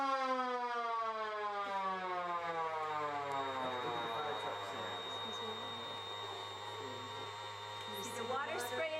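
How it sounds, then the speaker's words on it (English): Toy siren in a miniature putz display of a burning house, a wailing tone that winds down and then rises again over a steady low electrical hum, fairly close and alone. "I like a lot of fun playing the siren for one of them."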